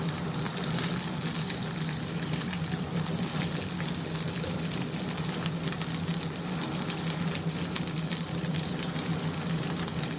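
Garlic, onion slices and curry leaves frying in hot oil for a tempering for amaranth dal, giving a steady, close, continuous sizzle with no talking.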